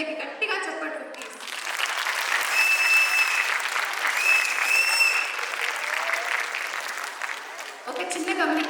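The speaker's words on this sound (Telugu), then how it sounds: "వీళ్ళకి గట్టిగా చప్పట్లు ప్లీజ్" Sustained audience applause at a Diwali celebration in Kansas City after a children's classical dance performance, loud and steady for several seconds, with crowd noise at the edges.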